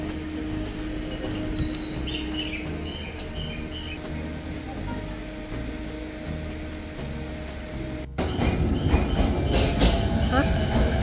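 Rumbling rail noise inside a moving JR East Chuo Line train carriage in Tokyo, steady and droning, with a sharp jump in loudness partway through as the ride grows rougher.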